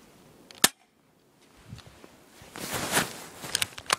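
A Golden Spring Colt M1911A1 spring airsoft pistol is fired at the ground, one sharp snappy shot, then faint rustling and clicking handling noises close by.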